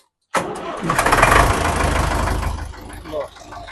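A 2000-model tractor engine cranks and catches, roaring to life loudly up close, then settles into a steady heavy running rumble.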